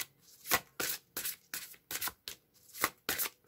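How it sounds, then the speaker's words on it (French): A deck of cards is shuffled for a card reading, with soft, close riffling bursts repeating in an uneven rhythm, quiet and alone. "On va mélanger un peu."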